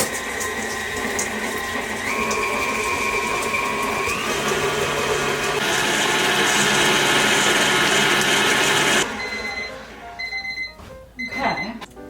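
Electric mixer beating butter for gluten-free clementine thumbprint cookie dough at medium-high speed, a loud steady whir that shifts pitch a few times before cutting off, followed by light clatter and faint voices.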